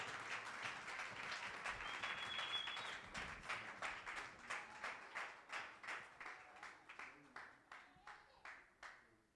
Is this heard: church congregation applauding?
yes